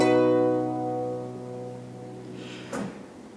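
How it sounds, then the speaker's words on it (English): Harpsichord with the buff stop engaged, dampers resting on the strings: a plucked chord that rings briefly with a muted, dry tone and fades quickly, followed by a soft knock. "a harp stop or a buff stop, or sometimes known as a lute stop"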